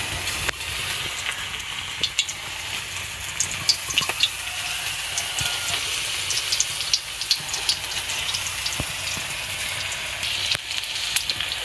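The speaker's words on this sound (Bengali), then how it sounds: "এক এক টুকরো মাংস এইভাবে তেলের মধ্যে দিতে হবে।" Chicken pakora pieces frying in hot oil in a kadai, a steady close sizzle and bubble with scattered sharp pops and crackles throughout, no talking over it.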